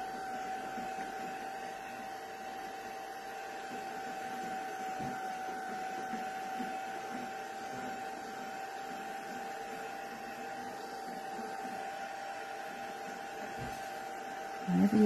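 Heat tool on low heat drying mixed media artwork, a steady whirring blower hum with a constant tone that runs unbroken for the whole stretch, fairly close, with no talk.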